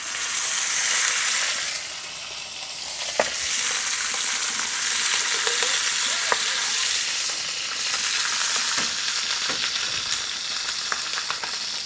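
Meat fries in a pan with a steady, bright sizzle throughout, broken by a few sharp clicks of utensils against the pan, close and fairly loud.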